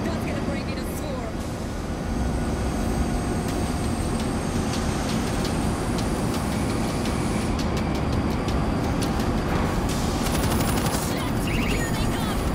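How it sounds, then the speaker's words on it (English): Loud, dense World War Z game action with a constant rumbling train engine drone under bursts of gunfire and shouting voices throughout. "Somebody start up the train!"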